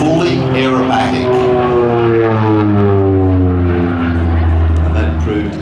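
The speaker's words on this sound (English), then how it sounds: "Another typical strafing pass there by Tony." North American Rockwell OV-10 Bronco, registration G-ONAA, roaring through a strafing pass at an air festival, its propeller engines giving a loud continuous drone whose pitch falls as it passes, with a commentator talking over it.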